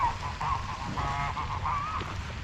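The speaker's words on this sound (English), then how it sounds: "There's the geese again." Geese honking at a pond, a steady run of nasal calls over outdoor background noise with no one talking.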